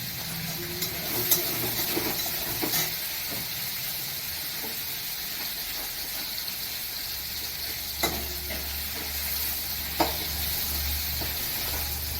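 Shrimp frying in a pan give a continuous close sizzle and hiss, with a few sharp utensil clicks and scrapes as they are stirred.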